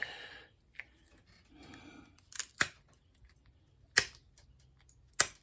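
Sharp scissor snips trimming hair, heard as a few separate crisp cuts spaced a second or so apart, close and clear with quiet pauses between.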